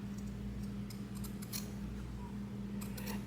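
Scissors snip fabric for a sewn tote bag in a few short, crisp cuts close by, over a steady low hum.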